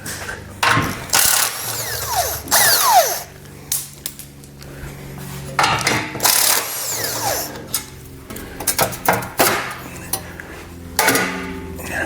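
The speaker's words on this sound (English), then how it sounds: "Take a 16mm socket, we're going to remove these 2 bolts and remove this plate." A 16mm socket wrench works bolts loose from a base plate on a 2019 Jeep, giving close, intermittent metallic clanks, ratcheting clicks and scrapes in uneven bursts, with no talking.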